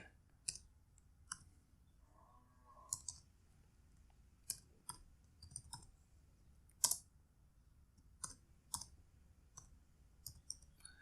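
Someone types HTML into Notepad on a computer keyboard: scattered single key clicks and short bursts, quiet and close, with irregular pauses between strokes and no voices.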